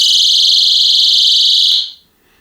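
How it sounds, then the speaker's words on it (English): A personal safety alarm that doubles as a torch and tracker shrieks with a piercing, steady high-pitched tone right up close, then cuts off abruptly near the end as the pin goes back in. "When you pull it out, it creates a very loud alarm."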